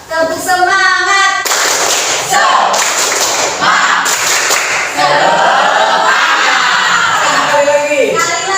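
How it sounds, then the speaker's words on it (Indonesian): An Indonesian school class performs a spirited clapping chant, loud bursts of group hand claps in rhythmic patterns mixed with children's voices chanting and calling out together close by. "Tepuk semangat."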